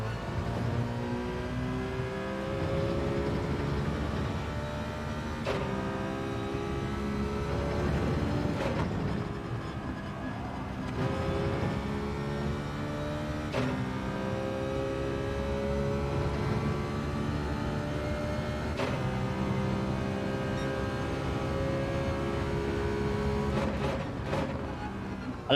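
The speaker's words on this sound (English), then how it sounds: "I love the downshifting sound with this car. Barks at you when you downshift." Citroën Group 4 race car in Gran Turismo 7 with its engine revving through gear changes, pitch rising and dropping repeatedly with sharp barks on downshifts, loud and continuous over a long run while a driver talks.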